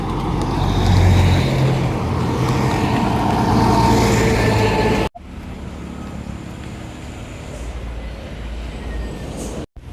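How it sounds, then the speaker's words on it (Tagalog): Cars and trucks pass on a road, a steady loud roar of traffic that cuts abruptly to a quieter, distant rumble of vehicles. "Yan, maraming sasakyan na dadaan."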